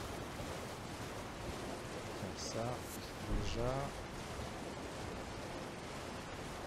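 Rushing waterfall in the Elden Ring Shadow of the Erdtree video game, a steady broadband roar that runs unbroken throughout, with someone speaking briefly over it.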